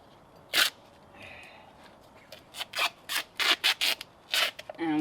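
Gaffer tape is pulled and pressed onto a surface on an old 1950s Caterpillar TraxCavator, heard as quiet, close bursts of tearing and rubbing that come faster toward the end.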